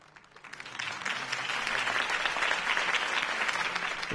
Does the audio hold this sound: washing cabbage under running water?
no